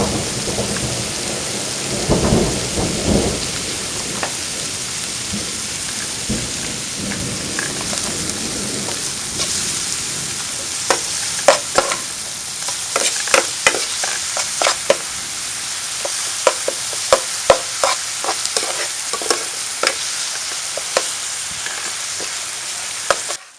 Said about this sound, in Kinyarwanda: Uko mubona ibitunguru byahiye na seleri